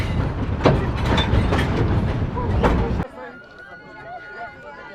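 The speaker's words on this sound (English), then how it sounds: "And now on the train together" Loud rumbling train noise with rhythmic clatter for a few seconds, then it drops away to a quieter interior hum with faint voices.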